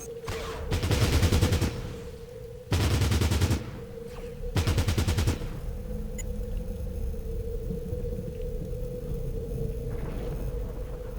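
Three loud bursts of rapid automatic gunfire in Fallout Tactics, each about a second long with short gaps between, followed by a steady low hum from the game.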